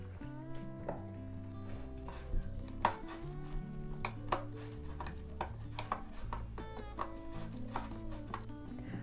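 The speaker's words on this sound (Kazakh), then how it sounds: "Осыны қасықпен немесе шаншықпен осылай суын шығарып езіп аламыз." A spoon mashes mint leaves and lemon in a bowl while making a homemade mojito, giving soft repeated pressing and tapping sounds against the dish, quiet and close, over faint background music.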